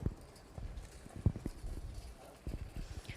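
Horse hooves clip-clop at a harness racing track, a run of soft, uneven thuds at moderate distance, fairly faint against a quiet background.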